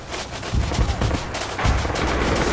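Gunfire in the Red Orchestra 2 World War II shooter during a Tractor Factory assault, with rapid bursts of machine-gun and rifle shots cracking in close clusters, loud and continuous.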